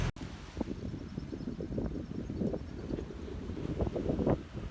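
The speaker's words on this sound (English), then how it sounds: "The wind was heading our way." Wind rushes over a sailing boat at sea off Tasmania, a steady buffeting roar with gusty surges and low rumble, close to the microphone and heard without voices.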